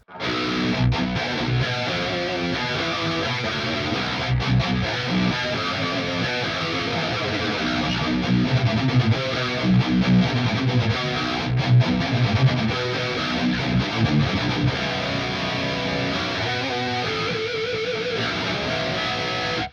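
Dense, saturated electric guitar tone from the Archetype Petrucci amp sim plays continuously with steady loudness, chugging riffs and sustained chords, no voices.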